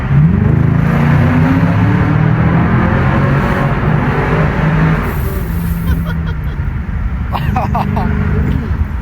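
A BMW V8 engine in sport mode roars and revs steadily with deep rumbling from inside the cabin at night, easing off toward the end.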